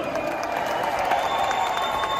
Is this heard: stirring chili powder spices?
no